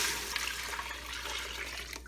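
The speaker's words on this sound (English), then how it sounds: "Now I'm going to add in our vegetable broth." Vegetable broth poured into a very hot pan, a steady loud hiss and sizzle of liquid hitting hot metal, continuous through the short moment with no voices.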